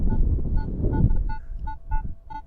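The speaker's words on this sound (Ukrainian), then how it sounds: "це сигнал на бронзу але теж непогано" A metal detector in a field sounds a repeated electronic tone signalling a bronze target, short pulsed beeps in an uneven rhythm over low rumbling handling noise.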